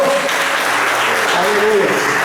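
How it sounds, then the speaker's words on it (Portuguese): A church congregation claps together during an evening worship service, a dense, steady wash of applause filling the room, with voices calling out over it throughout. "Vamos aplaudir a palavra do Senhor?"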